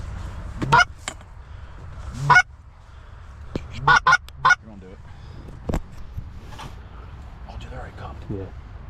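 A flock of geese honks loudly and repeatedly during a Pennsylvania goose hunt, with bursts of overlapping calls close by and quieter honks between them, while hunters talk quietly.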